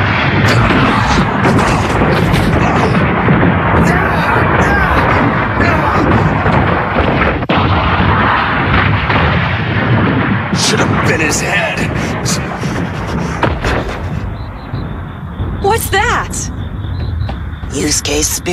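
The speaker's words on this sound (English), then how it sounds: "spirit gun, there's no mistake in it. Must have fired the big one." A Spirit Gun energy blast in an anime fight lands as a loud, sustained booming roar with heavy rumbling that fills most of the stretch, then thins into crackling debris and scattered bursts toward the end.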